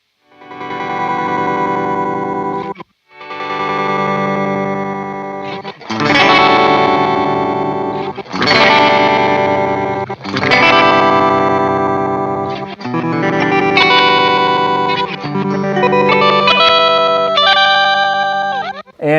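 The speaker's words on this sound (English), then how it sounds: "I like how the clock sounds right now. It's lo-fi-esque, but it keeps it articulate enough" Old Blood Noise Setback reverse delay pedal on a lo-fi clock setting, played with guitar: loud, dense chords swelling in reverse with gritty, slightly degraded repeats, in phrases separated by brief gaps, with no talking.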